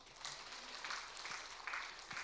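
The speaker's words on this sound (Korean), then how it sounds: "우리 하나님께 영광의 박수 한번 돌립시다" A church congregation applauds, a faint, steady patter of many hands clapping at a distance in a large room.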